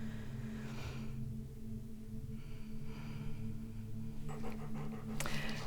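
A dog pants heavily nearby in quick, rhythmic breaths, with short snorts and breathy bursts toward the end and no voices.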